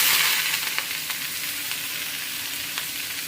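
Onion, green chili and drumstick leaves fry together in a pan with a loud, continuous sizzle and crackle, close up, with no talking.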